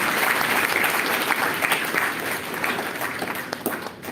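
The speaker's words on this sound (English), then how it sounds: "Round of applause for Abir as well" Applause from the audience at a climate change event, sustained clapping from a crowd at a fairly even level that thins slightly toward the end.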